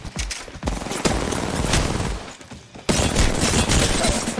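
Rapid gunfire in Apex Legends, dense bursts of automatic shots and sharp cracks packed close together, with a brief lull before another loud volley resumes.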